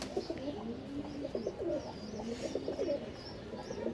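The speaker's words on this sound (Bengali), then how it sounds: "এটা কালেক্ট করা কবুতর" Pigeon cooing from a collected racing pigeon with a proven record, a steady run of soft, repeated low coos close by, with faint chirps in the background and no talking.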